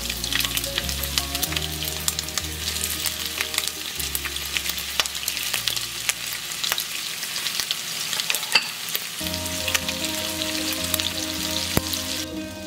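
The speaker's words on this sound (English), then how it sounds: "Once the oil is heated, fry the prosciutto." Prosciutto fries steadily in hot olive oil with a dense, crackling sizzle. Occasional stirring and pan knocks sit on top of the frying, close up, with no talking.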